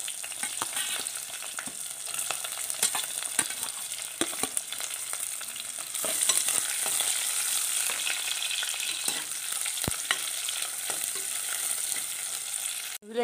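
Chopped shallots sizzle and fry in a pan for a fish curry, a steady close crackle broken by frequent scraping stirs, with no talk.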